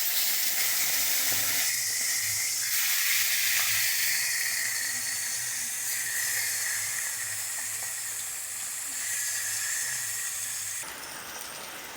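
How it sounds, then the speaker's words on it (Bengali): Koi fish coated in salt and turmeric sizzle steadily in hot oil, a bright continuous hiss that runs for a long stretch, then thins out and drops toward the end. "মাছগুলো সব ভালো করে ভেজে নিয়েছি"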